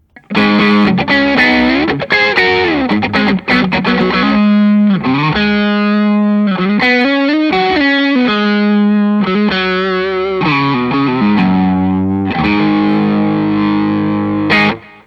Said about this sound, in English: Same example with the Analog Man silver mod.